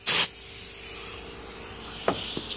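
WoolWax corrosion undercoating sprayed onto a car fender, one loud hissing burst at the start, then quiet, with a couple of short softer spray or handling sounds near the end.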